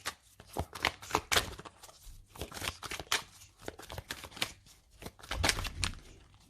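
A deck of tarot cards is cut and shuffled by hand. Repeated crisp riffling bursts and soft slaps of cards come close up, irregular and quiet.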